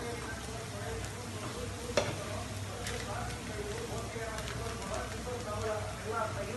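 Coriander powder roasts in oil in a pan for a Kerala-style mutton curry, a soft steady sizzle with occasional stirring taps and a voice talking over it.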